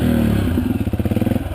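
A Yamaha dirt bike on a Rocky Mountain trail, its engine pulsing in a rapid, uneven throb close to the mic, starting with a steadier drone then chugging over rough ground with faint clatter.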